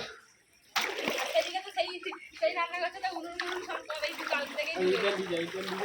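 Floodwater splashes and sloshes through a submerged kitchen, close and uneven, with a person talking over the water most of the time.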